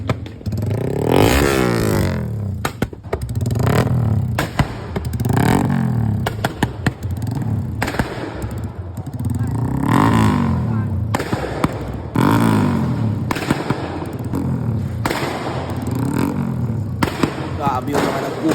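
Motorcycle engine being warmed up while pushed into a motor show, loud sputtering revs and sharp popping bursts repeating in uneven waves, close by, with people talking in the background.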